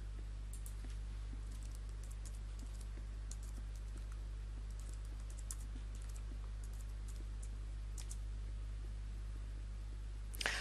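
Faint, scattered keystrokes on a computer keyboard as a username and password are entered, soft clicks spread unevenly over a steady low electrical hum.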